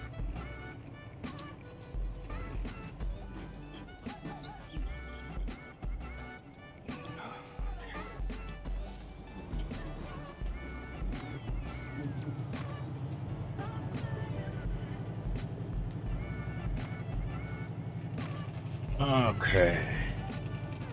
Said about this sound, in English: There's a lot of truck traffic here.